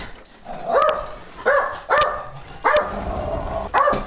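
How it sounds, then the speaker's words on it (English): Dogs barking at the postman's arrival at home, a series of about five sharp, loud barks in an irregular rhythm, heard alone without speech. "Excuse me, because the dogs are barking."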